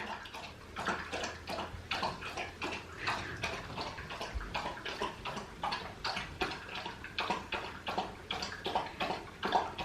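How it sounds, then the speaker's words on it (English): A dog laps water loudly and rapidly, a steady run of wet slurping laps close up for the whole stretch, with no talk. "the dog decided to drink water and he's really, really loud"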